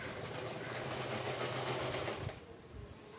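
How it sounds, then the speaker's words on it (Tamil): A sewing machine runs in a fast, steady whir while stitching the front dart of a blouse, faint and continuous before easing off near the end. "ஸோ ஸ்டிச்சஸ் இப்போ கொடுப்போம்."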